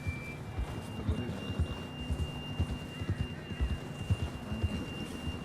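Horse hooves in Red Dead Redemption 2 thud in a steady galloping rhythm, a close, low drumming that carries on without a break under a faint background hum.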